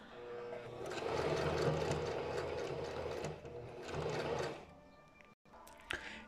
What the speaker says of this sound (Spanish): Esto que estamos realizando con una máquina casera ya a modo industrial se realiza con una máquina llamada collaretera o collareta